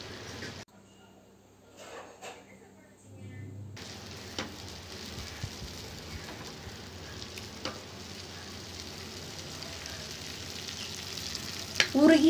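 Butter melts and sizzles in a pan for a homemade Nutella recipe, a soft crackling fry that starts faint and grows steadier and louder, with occasional clinks near the end.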